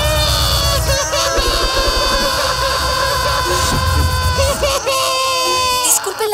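Cartoon characters in a fleeing scene screaming and wailing in a shrill, continuous chorus over busy music, loud and chaotic throughout.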